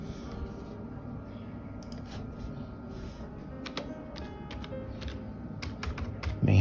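A password typed on a computer keyboard: quick, irregular clicks of keys near the microphone, with a few short pauses between bursts, over faint room hum.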